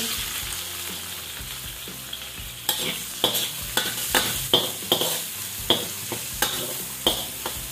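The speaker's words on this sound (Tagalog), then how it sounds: "Remaining oil. Maglalagay tayo ng onion." Onion frying in leftover oil in a pan, a steady sizzle close up with regular scraping stirs of a spatula repeating about every half second.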